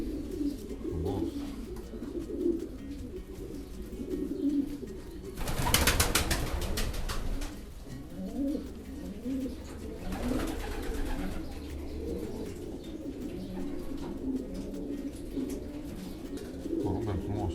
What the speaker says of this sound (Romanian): Porumbel frumos, puternic și el.